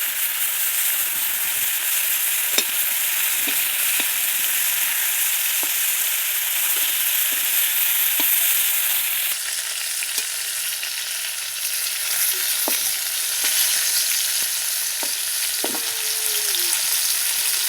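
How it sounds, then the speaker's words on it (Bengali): Eggplant pieces fry in a pan, giving a loud continuous sizzle with occasional scrapes and taps of stirring throughout, no voices. "বেগুনগুলোকে প্রথম আমি ভালো করে ভেজে নেব।"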